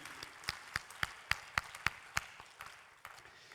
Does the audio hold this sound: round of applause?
yes